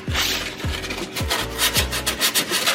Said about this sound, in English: I'm gonna go ahead and get in there with some sandpaper